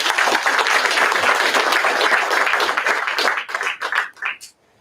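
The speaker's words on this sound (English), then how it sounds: "please get a warm round of applause in that regard" An audience at the launch of a river anti-pollution forum breaks into sustained, loud applause that holds steady and then thins into a few scattered claps before stopping.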